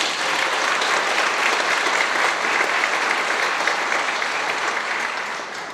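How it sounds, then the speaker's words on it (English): Loud, steady audience applause for the staff of the Public Education Foundation of Marion County at the Golden Apple awards, a dense wash of clapping that holds for several seconds and tapers slightly at the end. "Let's give the staff a round of applause."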